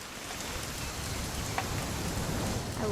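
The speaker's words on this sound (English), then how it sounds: "It's gonna rain the whole weekend" Steady rain falling in the video game What Remains of Edith Finch, a soft continuous hiss of drops on surfaces with no voices.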